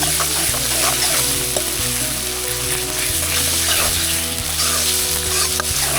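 Gravy hits capsicum frying in a pan over an outdoor campfire, producing a loud, dense, continuous sizzle with occasional stirring scrapes and low knocks, close up and without speech.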